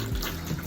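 Fresh water gushes briefly from a sailboat's foot pump plumbing, a short close burst of running flow.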